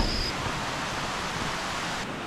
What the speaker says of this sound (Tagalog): marinig mo na kagad yung falls, no? Yung tunog ng tubig.